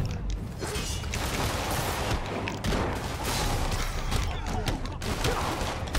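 Gunfire in Marvel's Spider-Man during a boss fight, dense continuous shooting and mechanical clatter with a player's voice talking over it.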